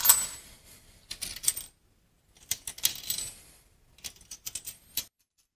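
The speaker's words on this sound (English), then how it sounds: "Then we take the washers and place them on top of the bolts." Small metal washers are set down on bolts of a Märklin display case in three brief clusters of bright, clinking taps and jingles, close and fairly quiet, with silent gaps between.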